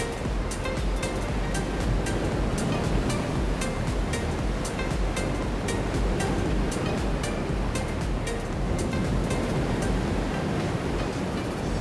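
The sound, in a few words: calm sea waves at Ky Co beach, Vietnam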